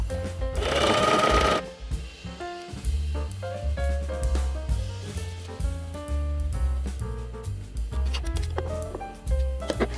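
A sewing machine stitching a garment seam while upcycling thrifted summer clothes, a rapid mechanical whirring patter in short bursts, heard under loud background music.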